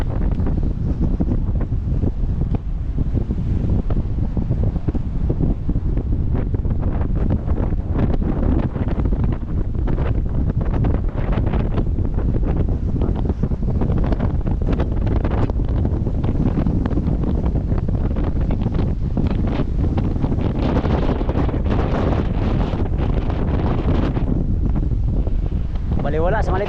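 Strong storm-like wind buffeting a small boat travelling from Mindoro to Navotas, a loud constant roar and rumble against the microphone with gusting fluctuations, and voices talking faintly beneath it.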